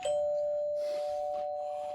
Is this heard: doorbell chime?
yes